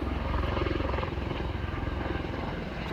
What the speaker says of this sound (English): Helicopters galore.